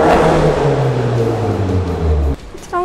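A BMW 430i M Sport convertible (F32) engine revs loudly up close, its exhaust note dropping in pitch as it settles, then cuts off abruptly near the end.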